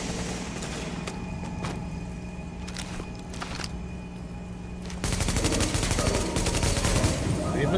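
Rapid gunfire in The Division, scattered shots over a steady low game hum, then a loud dense burst of automatic fire in the last few seconds, close and continuous.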